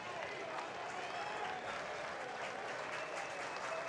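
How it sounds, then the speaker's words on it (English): Fans at a Minnesota versus Oregon State college baseball game keep up steady applause and crowd noise for their batter, continuous and fairly faint, with a murmur of voices mixed in. "So now the crowd coming alive to urge their batter to get aboard"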